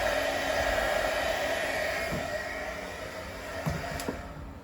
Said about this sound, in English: And then I'm going to just hit it with my heat gun real quick.